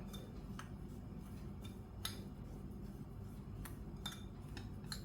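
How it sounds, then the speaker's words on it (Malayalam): Spoon clinking against a bowl as cumin and cardamom powder are mixed into a liquid batter for steamed ela ada, a string of light, scattered metallic taps over a low steady background hum. "ഇതെല്ലാം കൂടെ നമുക്കൊന്ന് മിക്സ് ചെയ്ത് വെക്കാം"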